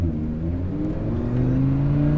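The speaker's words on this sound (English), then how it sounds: "We got that Ferrari coming right now." A Ferrari on a race track approaches with a loud, close engine note whose pitch climbs steadily as it accelerates, a smooth rising tone with no talk over it.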